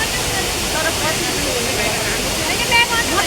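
Lauke waterfall in Nuwakot, Nepal, roars in a constant broad wash of falling water heard up close, with a faint voice briefly rising above it near the end.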